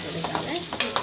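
Sizzling and stirring in a hot pan as chilli powder and turmeric fry in oil, a steady crackle broken by several soft scraping strokes, close and moderately loud with no voices.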